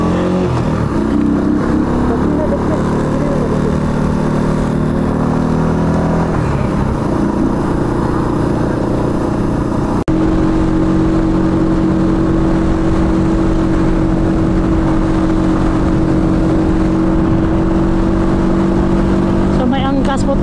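Rusi Flash 150 motorcycle engine droning steadily while riding with a passenger, a loud, close hum mixed with wind rush, a shift in pitch midway, with a rider talking over it.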